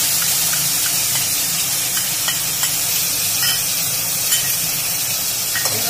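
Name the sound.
spice paste added to fried potatoes, sizzling in pan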